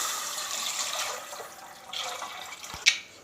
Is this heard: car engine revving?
no